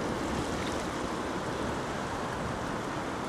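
Ocean waves washing at Sorrento Beach near Hillarys Boat Harbour, a steady broadband wash of surf with no break, fairly soft and continuous, no voices.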